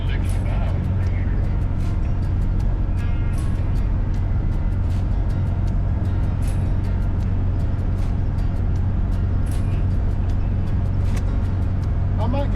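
An old, ancient RV rumbles along the road with a steady low engine and road drone throughout, a continuous close cabin hum with faint rattles and no break in the noise.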